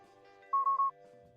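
A computer notification chimes as three quick, clear beeps in a row, fairly loud against a quiet background.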